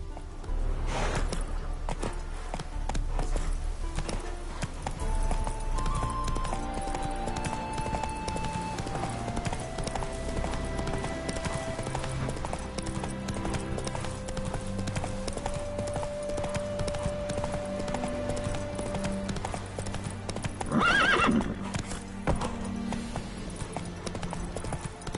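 Geralt's horse in The Witcher 3: Wild Hunt clops along steadily at a brisk pace, hooves drumming under game music, with a brief whinny near the end.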